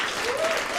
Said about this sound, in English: So round of applause for 3rd time ever.